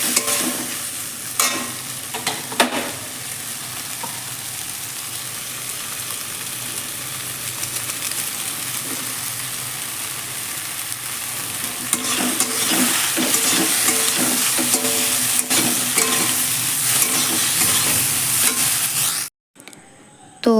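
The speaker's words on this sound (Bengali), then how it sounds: "ম্যাগিটাও ফ্রাই করে নিচ্ছি।" Maggi noodles frying and being stirred in a wok alongside already-fried beans and carrots, a steady close sizzle with scraping stirs throughout, ending abruptly.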